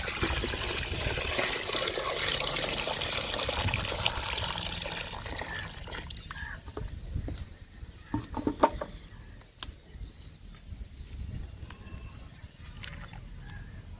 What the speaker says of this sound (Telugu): ఇప్పుడు వాటర్ పోసేస్తున్నాను